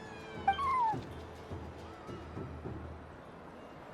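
A cat in Genshin Impact gives a single clear, rising-and-falling meow close by, over a quiet game ambience with faint soft footstep-like thuds afterward.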